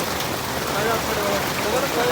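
Heavy rain pours down in a dense, unbroken hiss, loud and close throughout the short stretch.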